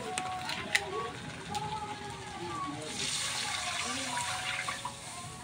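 Water is poured into a cooking pot for salmon head sinigang, a faint continuous splashing stream that holds steady and brightens partway through.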